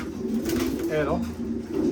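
Pigeons at a racing pigeon loft, a soft low cooing rising and falling under a steady hum, with someone speaking nearby.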